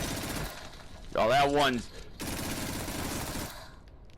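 Rapid gunfire blasts away at spiders in a video game, a loud dense burst of shots with someone shouting excitedly over it and more talk continuing afterward.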